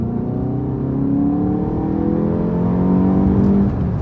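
A Volkswagen MK7 GTI running a Unitronic tune accelerates strongly, its engine note climbing smoothly through second gear, heard from inside the car, steady and moderately loud with no talk.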